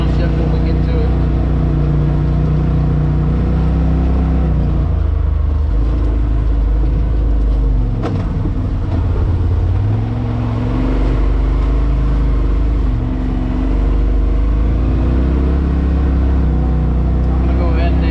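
Off-road vehicle climbing the Wolfpen Gap trail, its engine a steady low rumble with shifting revs and some bumps and rattles, close and continuous throughout.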